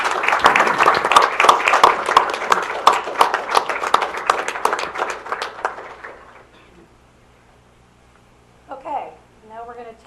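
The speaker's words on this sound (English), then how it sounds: "if we could have a round of applause for Joe" Applause for Joe at a board of education meeting: a dense round of clapping from a seated audience lasting about six seconds, then fading out, followed by a brief spoken remark.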